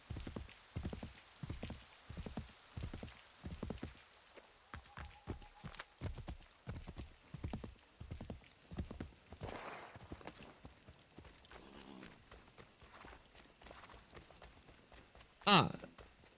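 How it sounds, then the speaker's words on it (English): Horse hooves clip-clop in a rapid, steady rhythm as a horse gallops in a video game, fairly close and moderately loud, with talk over parts of it and a sharp high sound near the end. "Horse, really, you can't jump over the tree?"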